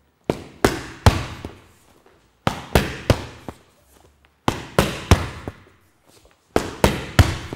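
Boxing punches smack into handheld focus pads in sharp, loud combinations of three to four hits, separated by short pauses, close and without talk.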